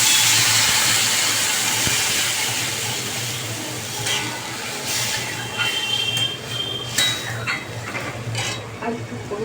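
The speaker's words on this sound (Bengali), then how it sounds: "এবার আমি জল ঢেলে দেবো।" Water poured into a hot pan of fried eggplant, a loud hissing rush at first that gradually settles into a softer bubbling simmer with faint stirring.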